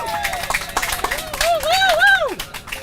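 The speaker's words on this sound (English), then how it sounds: "I got a cheer for myself." An audience at a town hall on care workers claps and cheers for a speaker, loud and close, with whoops and rising shouting voices over scattered applause.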